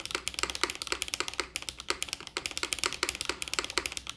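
Typing on a mechanical keyboard fitted with Macchiato switches: rapid, close, crisp keystrokes in a continuous, uneven rhythm with no talking.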